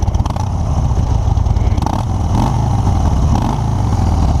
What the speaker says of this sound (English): So let's go ahead and give it a little bit of a rev here.